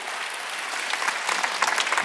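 A church congregation at a Sunday worship service claps together, a steady dense patter of many hands sustained throughout, moderately loud and close with no talking over it.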